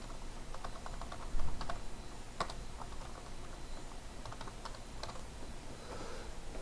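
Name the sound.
typing on a computer keyboard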